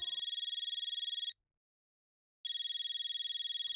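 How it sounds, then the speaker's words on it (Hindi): A telephone rings with a steady electronic trill in two bursts separated by about a second of silence, clear and alone with no talk. "मामी का फोन"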